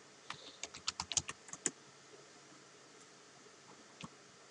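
Typing on a slightly laggy computer keyboard, a quick burst of about ten close, crisp key clicks followed by a pause and one last isolated keystroke, quiet room otherwise.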